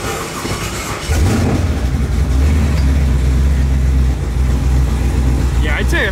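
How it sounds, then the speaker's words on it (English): A 1500 horsepower Camaro ZL1 with twin 76 mm turbos idles with a surprisingly tame, deep, steady rumble that swells after about a second and holds close and loud, with some clattering near the end. "You wanna hear the tamest 1500 horsepower you've ever heard in your entire life?"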